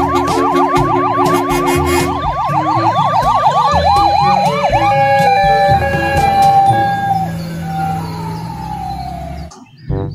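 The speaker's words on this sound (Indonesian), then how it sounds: "Yang ini ada mobil ambulans" A toy ambulance's electronic siren wails loudly up close, rapid warbling cycles shifting to slower sweeps, then cuts off abruptly near the end.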